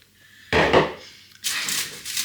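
A bowl is pushed aside across a kitchen worktop during air-fryer doner kebab prep: two close, dry scraping slides with a short pause between them, and no voices.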